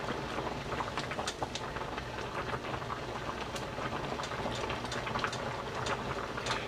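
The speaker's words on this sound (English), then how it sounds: "It's boiling right now, and let me show you guys." A pot of beef and Guinness stew with potato, onion and carrot bubbling steadily, a dense simmering crackle with scattered small pops, continuous and fairly quiet, with no talking.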